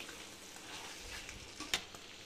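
Andhra-style chicken curry being stirred in a pan: a steady, low sizzle of frying with soft scraping from the stirring and one sharper clack near the end, close by and with no voices.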